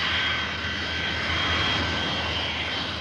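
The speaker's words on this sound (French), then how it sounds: "2 réacteurs à l'arrière de l'avion." A Caravelle jet airliner with two rear-mounted jet engines produces a continuous, even roar with a high whine on top, steady and fairly close for the whole stretch.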